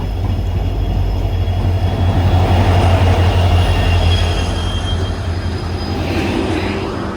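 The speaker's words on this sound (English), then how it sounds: "the train is here." Panchganga Superfast Express pulling in at platform number 1 of a station, a steady loud rumble of wheels and carriages rolling past close by, continuous throughout with no voices.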